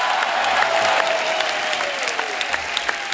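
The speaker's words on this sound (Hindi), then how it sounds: "हमारे रोनित साहब के लिए पहले तो जोरदार तालियां" Studio audience at a Hindi TV comedy talk show applauds steadily and loudly for a guest, a dense wash of clapping that continues throughout with a few sharper claps near the end.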